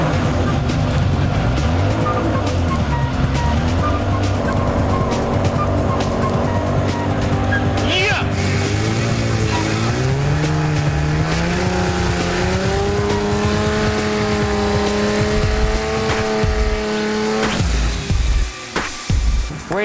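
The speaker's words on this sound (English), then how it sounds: "It's time to do the startup procedure, and we're going to hear this thing live any minute now." A race car engine fires up and settles into a loud, rough idle, its pitch rising and falling with throttle blips before cutting off.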